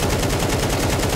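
Rapid automatic gunfire from Counter-Strike 2 shoots through a wall in a loud, unbroken burst of closely spaced shots.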